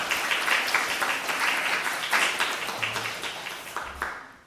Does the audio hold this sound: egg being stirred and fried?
no